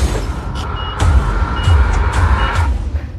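A garbage truck backing up gives a series of sharp, regular reversing beeps over a low diesel rumble and hiss of air brakes, close and loud.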